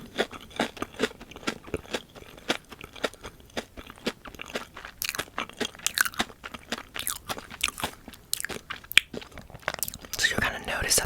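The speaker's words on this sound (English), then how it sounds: "So that's why it's not the crunchiest that you've ever heard it, because it's a sour candy" Close, crisp crunching and biting of a sour blue raspberry crystal candy coated in sour powder, a rapid series of sharp bites and chews with small pauses, loud and intimate.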